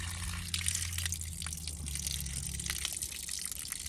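Cold water keeps trickling and dripping out of a 1927 Chevy truck engine, a steady nearby liquid flow with scattered drips over low background rumble.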